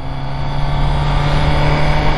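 A car engine revs hard, producing a loud, sustained motor drone whose pitch climbs slightly over a couple of seconds, with no talking.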